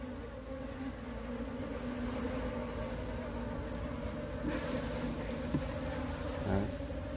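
A honeybee colony buzzes steadily at the hive, a dense continuous hum of many bees heard close, with a few light knocks and bumps near the end.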